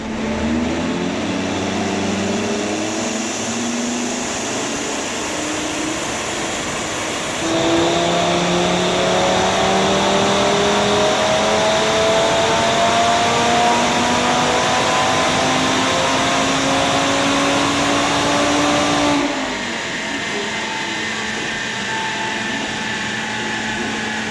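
An Audi RS3 with a JB4 tune, full bolt-ons and a decat, runs hard on a dyno at about 6 PSI boost, its engine climbing steadily in pitch through a long loud pull before dropping back to idle, with no talking.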